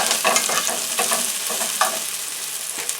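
A cup of onions fries in a pan for a spicy chili cornbread dish, a close, steady sizzle broken by quick scraping strokes of a stirring utensil.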